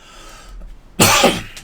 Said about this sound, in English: One would think that eventually that cough would go away